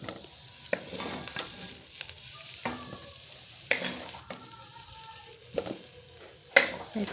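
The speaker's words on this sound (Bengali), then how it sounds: "লাল লাল করে ফুলকপি আলুটা ভাজছি।" Cauliflower and potato pieces fry in a pan with a constant soft sizzle, while a spatula scrapes and clinks at intervals.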